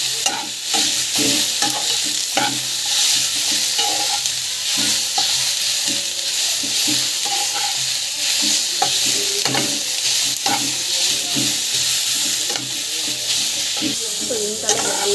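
Fresh coriander and mint sauté in a hot pan and sizzle loudly and steadily, with frequent scrapes and clinks from a stirring utensil.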